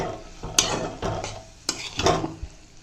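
A spoon scrapes and stirs through a thick curry in a pot, with several irregular clanks and swishes, close by and with no talking.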